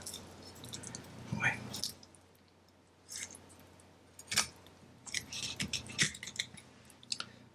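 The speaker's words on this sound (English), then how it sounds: "Now we should be able to actually just remove this fillet by putting the knife in" A knife cutting a fillet away from a horse mackerel for sashimi, heard as quiet, close, wet squishing and slicing noises in several short bursts with pauses between them.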